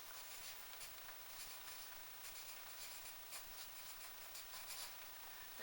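A time signature, four over four, is written out for a music theory lesson, a pen or pencil scratching in short quick strokes, close and quiet with no talk.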